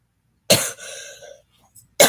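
A single harsh cough followed by a short raspy trailing breath, then the start of another cough, close and loud.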